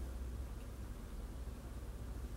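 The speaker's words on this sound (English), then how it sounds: "this emits white noise for your baby to go to sleep" A baby white noise machine gives off a steady, even hiss at low volume, continuous with no breaks or changes, and no voices over it.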